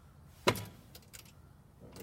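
A dime drops into a 1947 Coca-Cola VMC 27 vending machine with a sharp metallic clink, followed by a few faint rattles and clicks as the coin runs through the mechanism.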